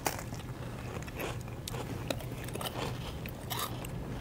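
Crunchy biting and chewing of freeze-dried peach rings candy, a steady run of close, crackly bites and mastication lasting several seconds with no talking.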